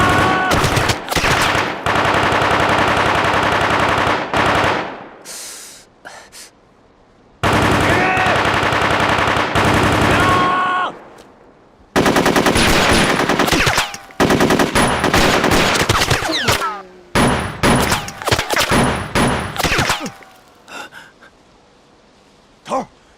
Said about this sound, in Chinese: 尝尝我兵的子弹吧！